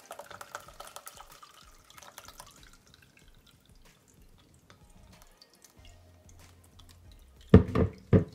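Celery juice drips through a kitchen strainer in faint, scattered patters, ending in a few louder, splashy drops close by.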